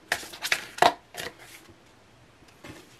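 Tarot cards being shuffled and drawn from the deck, heard as several sharp, close riffling bursts in quick succession, then softer slides and a final flick, with no talking.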